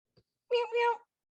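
A human voice mimics a cat's meow twice in quick succession, close and clear, preceded by a faint short sound.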